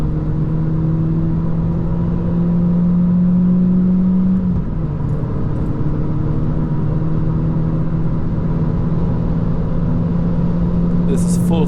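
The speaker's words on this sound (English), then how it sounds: "Now I will drop some gears and try to reach its max speed as fast as possible." Opel Adam small hatchback accelerating at full throttle on the Autobahn, a steady loud engine drone with a rising whine that dips as a gear changes mid-run, then pulls on under constant road and wind rumble.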